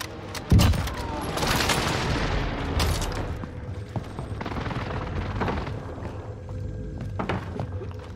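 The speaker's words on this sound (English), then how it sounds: "Precision airstrike missed." A precision airstrike lands in Call of Duty Warzone on Rebirth Island: a sharp close blast opens a rolling chain of loud booming impacts, with scattered gunfire following. No one speaks.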